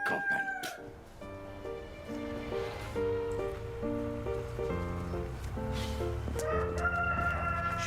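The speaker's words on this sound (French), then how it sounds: "Saleté de coq!" Early morning in the countryside brings a rooster's repeated crowing, ringing out in drawn-out, tonal calls over a steady background.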